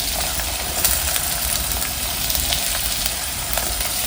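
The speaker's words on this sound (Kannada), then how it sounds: "ಮೊದಲಿಗೆ ಈರುಳ್ಳಿ ಹಾಕ್ತಾ ಇದ್ದೀನಿ, ಸಣ್ಣದಾಗಿ ಕಟ್ ಮಾಡಿದ ಈರುಳ್ಳಿ." Finely chopped onions with green chillies frying in a pan for a coconut chutney and paddu meal in a village kitchen, a steady dense sizzle with small crackles running evenly throughout, close and alone without talk.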